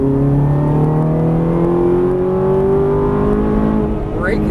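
Ferrari 430 accelerating hard on a race track, a loud, close engine whose pitch climbs smoothly and steadily throughout, with an instructor speaking over it.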